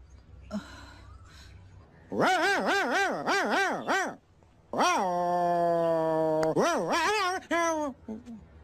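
A voice imitates a dog, letting out bursts of yelping barks and a long whining howl, in rhythmic clusters with short pauses.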